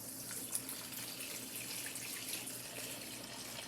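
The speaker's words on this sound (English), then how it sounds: "You'll need hot water, and we're just gonna pour it in there." Hot water poured from a kettle into a container for soaking combs and brushes, a steady faint splashing stream lasting the whole time, close, without voices.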